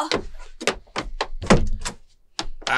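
Someone pounds on a door, about eight sharp, irregular thuds in quick succession, loud and close, with a voice near the end.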